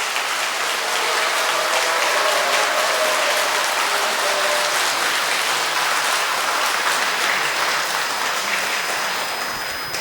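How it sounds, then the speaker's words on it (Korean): A congregation at Sunday Mass in a Korean Catholic church applauds to welcome its pastor, Father Woo Dae-geun, on his 30th ordination anniversary: dense, sustained clapping from a large crowd, steady and loud throughout. "우대근 신부님께 모두 환영의 박수 부탁드립니다."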